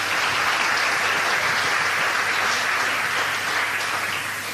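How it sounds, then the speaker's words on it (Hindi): Sustained, dense applause from a large audience, steady and loud throughout, tapering slightly at the very end. "सो प्लीज़ जोरदार तालियां दीजिए"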